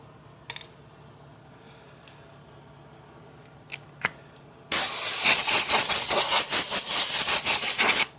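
A paint gun with a 0.8 nozzle sprays mixed paint and clear coat onto a damaged car wheel. A few faint clicks come first, then a loud, close, steady hiss bursts in and runs for about three seconds before cutting off.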